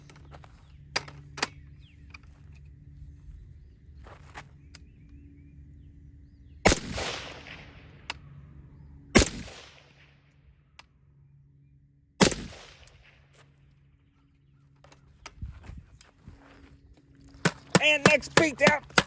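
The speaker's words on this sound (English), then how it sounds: "First 3 shots after the beatdown." Rifle shots fired with a Primary Arms SLx MD-21 optic mounted, three loud spaced cracks with ringing decay, scattered sharp clicks and knocks, and a flurry of rapid metallic rattles near the end.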